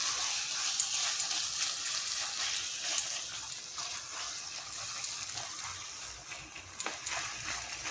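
Kochu shak (taro leaves) with coconut fries over a high gas flame, a steady close sizzle of water cooking off, broken by light scrapes and taps as it is stirred.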